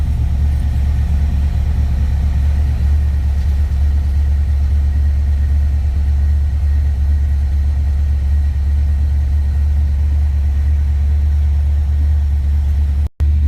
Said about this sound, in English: That was like 4 RPMs and it fired right up. It's idling a little high.